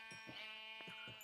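Sheep bleating on a Minecraft farm, several short close bleats in quick succession, clear and fairly quiet.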